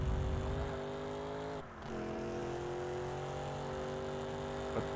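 A race car engine in TOCA Race Driver 3 holds a steady, droning whine at moderate volume. It dips briefly, as if shifting gear, then carries on at a slightly higher pitch.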